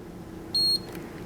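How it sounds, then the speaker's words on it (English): A Bernina 530 sewing machine gives a single short, clean electronic beep, clear and close against a quiet room hum. "So now you heard a beep"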